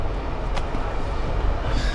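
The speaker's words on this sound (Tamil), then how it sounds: "ட்ரெயின் வந்து கிளம்ப ஆரம்பிச்சிச்சு." A Vietnamese overnight train begins pulling away, a loud, continuous low rumble and rattle of the carriage with a faint metallic squeal, steady throughout and without speech.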